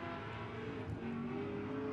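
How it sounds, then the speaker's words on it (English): A Porsche 992 GT3 Cup race car engine drones loudly at high revs, holding a steady, slightly rising note as it passes at moderate distance out of a corner during an SVRA race at Sebring. "So Charles Vick, Wicked in that 992 GT3 Cup car, comes out of the Mission Foods Sunset corner for the last time"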